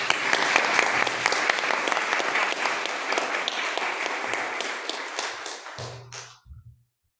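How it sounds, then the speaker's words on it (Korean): A church congregation at a Sunday worship service gives a guest warm, sustained applause, with dense, steady clapping for about six seconds before it fades out. "제 보스를 큰 박수로 환영해 주시기를 부탁 말씀드립니다"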